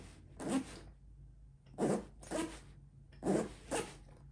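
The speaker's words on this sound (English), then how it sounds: "the zipper gets hung up on this really thick band of the key carabiner" A fabric sling bag's zipper is tugged in five short rasping pulls, catching on a thick key carabiner band; the bursts come close and distinct with brief pauses between, and no one speaks.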